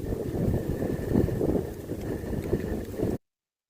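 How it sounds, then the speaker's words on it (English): Gusty wind buffets a microphone outdoors in an open field, a dense, rumbling low roar that swells and eases for about three seconds before cutting off abruptly. "Trying not to get blown away by the wind here."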